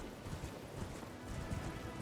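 Horse hooves clip-clop at a quick, even pace as a horse is ridden across terrain in Elden Ring, muffled and low beneath a continuous ambient backdrop, with no speech.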